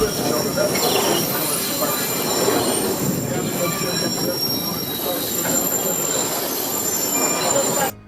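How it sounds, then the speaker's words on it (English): A sightseeing train rolls across tall steel bridges spanning a canyon, wheels squealing loudly and steadily against the rails over a continuous rumbling roar for the whole stretch, with faint murmuring voices underneath. "The train rolls across tall steel bridges spanning the canyon."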